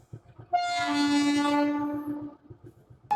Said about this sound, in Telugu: లింగంపల్లి ఇంకొక ట్రైన్ వస్తుంది.